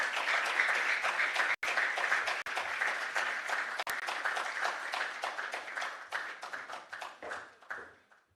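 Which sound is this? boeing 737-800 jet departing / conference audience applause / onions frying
conference audience applause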